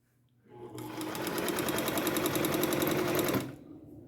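A vintage Janome New Home sewing machine runs steadily for about three seconds, its rapid needle chatter starting and stopping cleanly, close and fairly loud with no talking.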